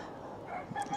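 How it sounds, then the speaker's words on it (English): A rooster crows in the middle of a city in Guanajuato, a faint, brief, distant call against quiet surroundings. "There's roosters in the middle of the city."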